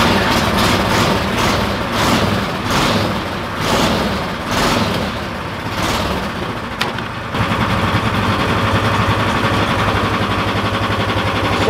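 Two small go-kart engines run together on one kart with the rear jacked up, a steady loud mechanical drone with pulsing revs through the first seven seconds, then a brief click and a continuous idling hum.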